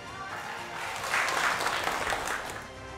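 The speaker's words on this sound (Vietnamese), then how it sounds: "Hãy dành một tràng pháo tay để cảm ơn sự nỗ lực cố gắng của hai bạn Hải Như Ý và Hải Tiến." A studio audience at a Vietnamese televised quiz show gives warm, continuous applause during an award presentation. The clapping swells slightly in the middle and stays close and even.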